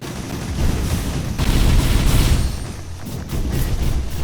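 Railgun or Gauss cannon blasts in the video game Risk of Rain: a few heavy booming shots with sharp onsets, loud and close, over a dense rumbling wash of game noise.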